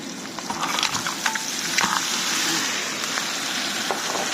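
Crab added to a hot frying pan sets off a loud sizzle, with sharp crackles and clatters over the first two seconds, then a steady frying hiss.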